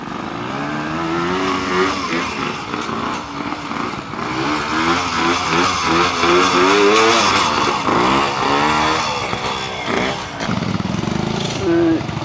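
A Drayton Bantam trials motorcycle picks its way through a section under trees, its small engine note rising and falling steadily as the throttle is worked, with voices talking over it.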